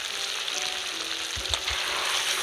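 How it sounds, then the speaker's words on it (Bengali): Fried potatoes stir-fried in spice masala for egg biryani give off a steady, close sizzle with a broad frying hiss and a few soft stirring scrapes. "আলুগুলো দিয়ে কিন্তু ভালো করে একটু কষিয়ে নিতে হবে।"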